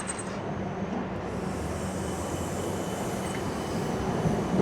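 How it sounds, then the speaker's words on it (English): A small tram at Anzac metro tunnel station rumbling past with a broad steady roar that swells toward the end, heard close by without talking. "Oh, here goes the tram, it did."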